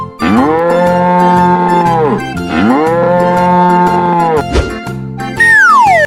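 A cartoon cow in an animal painting video game moos twice, each a loud, drawn-out call ending in a falling tone, followed by a short springy effect.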